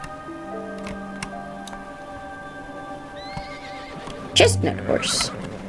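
A chestnut horse in a video game whinnies near the end, a short loud neigh following quiet in-game ticks, clip-clops and soft background music tones.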